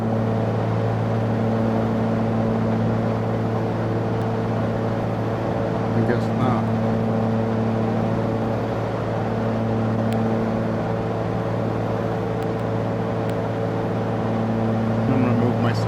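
A small Cessna CT210 single-engine plane in a flight simulator drones steadily through takeoff from runway 22, with a constant, close engine hum and only slight pitch change. A voice talks briefly over it.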